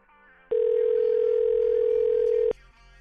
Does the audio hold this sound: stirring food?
no